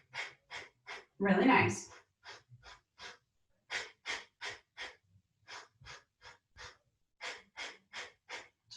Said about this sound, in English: Keep going with your breath.